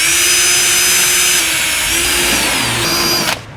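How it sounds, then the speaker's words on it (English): A power drill fitted with an 11mm bit whines steadily and loudly while widening clip holes in the under tray of a Hyundai i30 Sedan N, its pitch dipping slightly as it bites, then cutting off abruptly at the end. "grab your 11mm drill bit, and we're going to widen the holes where those clips went in earlier."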